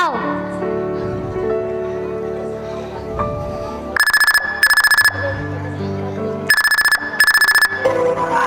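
A phone rings unanswered during a school stage drama, with several bursts of loud electronic ringing and short pauses between them, heard over background music.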